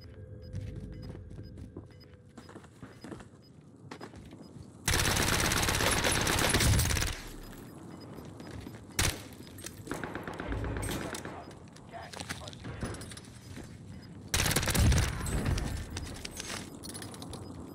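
SMG gunfire from a CX9 in a video game comes in two loud sustained bursts separated by quieter stretches of scattered shots and game noise, with a voice talking over parts of it.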